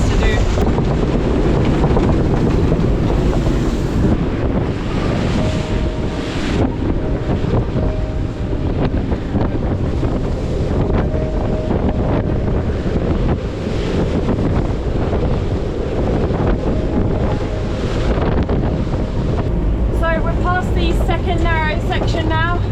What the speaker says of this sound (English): this section is where the waves have been allowed to build up a little bit